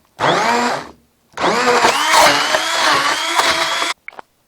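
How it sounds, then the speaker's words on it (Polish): Blender whirring through bananas and milk, a loud motor whine in two bursts, a short first run, a pause, then a longer run that cuts off abruptly. "Najpierw musimy blenderować"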